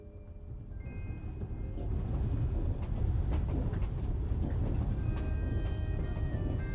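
A train rolls steadily through a Genshin Impact quest scene in Snezhnaya, with a low continuous rumble and scattered metallic clicks and squeals, growing slightly louder after the first couple of seconds with no talk.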